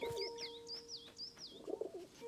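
Birds in A Plague Tale: Innocence coo and chirp softly, a few repeated warbling calls over a quiet background with a faint steady tone, no talking.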